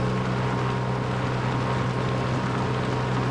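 A tractor engine held at full throttle in Farming Simulator 22 while pulling downhill, a steady, loud, droning hum with strong low tones that stays constant throughout with no talk.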